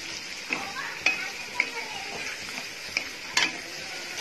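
Ginger and garlic pieces are stirred in a hot pan: a soft, steady sizzle, with about half a dozen sharp spoon scrapes and clicks against the pan at irregular intervals, close by.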